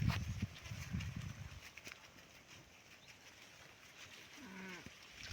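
Sheep grazing and moving under a tree on a farm, with faint shuffling and a few soft bleats against a quiet outdoor background.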